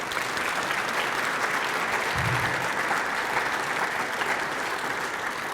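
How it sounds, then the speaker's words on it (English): Audience applause at a morning community event in Boardman, with a steady wash of many hands clapping throughout and no voices. "But let's give him one more round of applause."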